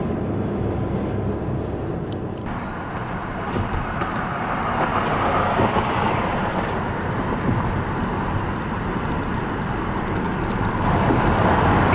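Steady road noise from a car driving into Burbank, a continuous broadband rumble and tire hiss that holds level throughout with no speech.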